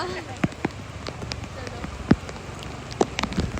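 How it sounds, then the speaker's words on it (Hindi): Heavy rain falling outdoors, a steady dense patter with scattered louder drops and knocks on nearby surfaces. "एक नंबर की बारिश आ रही है ना"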